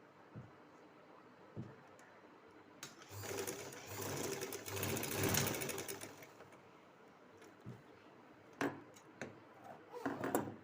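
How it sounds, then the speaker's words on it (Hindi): A sewing machine runs a straight stitch along a kurti panel seam in one sustained close burst of rapid whirring, flanked by quieter handling knocks and taps before and after. "इसकी भी सिलाई आपने यूँ सीधा लगा लेनी है"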